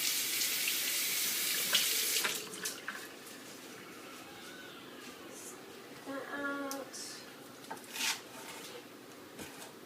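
Kitchen tap water runs into a sink as cilantro is washed, a loud steady rush that fades back after a couple of seconds into softer splashing and trickles, with brief speech in the background.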